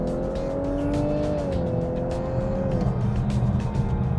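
Lexus LC500 kicks down a gear and accelerates, its engine note climbing loud and close, then dipping sharply at a quick upshift before pulling again under road noise.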